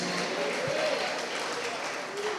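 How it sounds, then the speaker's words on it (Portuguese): A congregation claps during a Sunday celebration service at Igreja Ceia, with continuous broadband clapping and faint crowd voices throughout, fairly loud and steady from start to finish. "Você pode aplaudi-lo, você pode dar um brado de aleluias"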